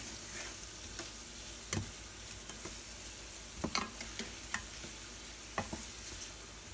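Carrots caramelize over low heat in a brown sugar and bourbon glaze, with a quiet continuous sizzle. Sharp clicks of a utensil stirring against the pan break through it at irregular moments.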